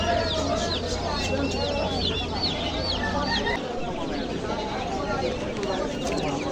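Broiler chicks and chickens at a livestock market, a dense continuous chorus of peeping and clucking close by, with crowd chatter underneath.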